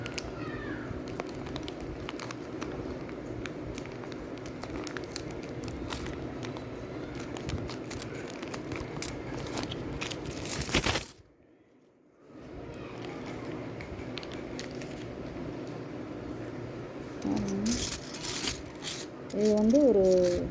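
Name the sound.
2025 75th Independence coins poured out of opened packet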